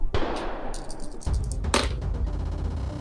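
Gunshot sound effects in a tabletop role-playing game: a sharp, loud blast followed by further cracking shots and metallic clangs, with a dense rumbling tail behind them.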